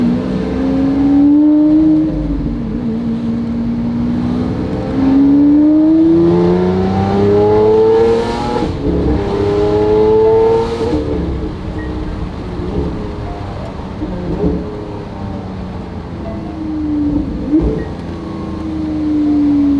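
A tuned car engine revs repeatedly with throttle blips, the pitch sweeping up and falling back several times, loud and close, with a few sharp crackles from the exhaust.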